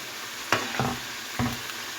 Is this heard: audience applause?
no